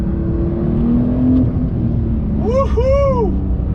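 A 2021 Porsche 911 Turbo S pulls hard in first gear, a loud steady engine roar and rumble from inside the cabin, rising in pitch, with faint excited voices briefly over it.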